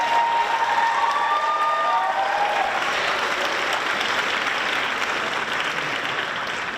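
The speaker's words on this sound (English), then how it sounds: "So please give a round of applause to Miss Jakes for jumping in." Audience applause at a school concert featuring choir, orchestra, band and jazz band fills the room steadily and loudly, dense clapping from a large crowd with faint whistles early on, holding throughout.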